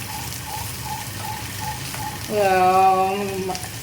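Onions sauté in a pan for masala dosa, a soft steady sizzle with faint stirring, while a brief whining tone and then a louder tonal whirr rise over it near the end.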